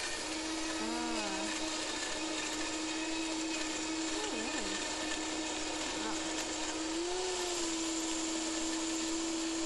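A kitchen blender whirs steadily to purée with olive oil, its motor pitch wavering and briefly dipping a few times, with faint background voices under the steady drone.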